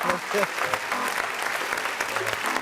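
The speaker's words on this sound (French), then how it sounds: "Applaudissez pour Constant Mignon" Audience applause breaks out, a brisk wash of many hands clapping at moderate volume, with voices speaking over it.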